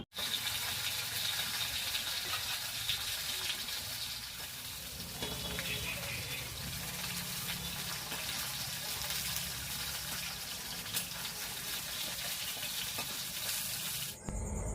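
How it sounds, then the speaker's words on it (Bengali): A split fish head frying in oil in a village kitchen, a steady, fairly quiet sizzle continuing unbroken, with soft background sounds and occasional faint voices. "শুধুমাত্র এই যে মাথাটা ভাজছি"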